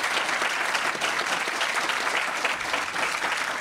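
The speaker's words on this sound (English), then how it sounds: "Can we have a round of applause for our panelists?" Audience applause for the panelists after a campus climate science debate at the University of Dallas: dense, steady clapping from a crowd, loud and sustained through the whole stretch.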